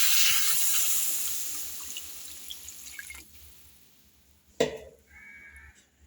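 Water pours into a pan of sautéed vegetables for a fish curry, a close splashing rush that fades, followed by a sharp burst of sizzle and a faint trickle; no talking.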